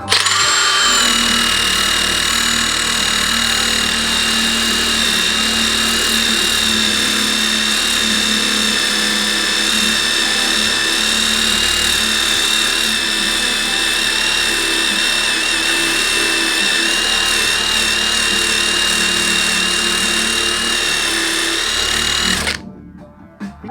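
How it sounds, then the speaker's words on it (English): A drill with a sanding attachment grinds a rusted hood down to bare metal on a Nissan 240SX, a loud, steady high whine that runs without pause before cutting off at the end. "I already tried earlier with the drill,"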